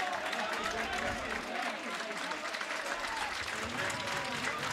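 A crowd at a Greek third-division football match between Achaiki and Panachaiki claps steadily as a player is substituted, a dense, sustained applause with voices mixed in.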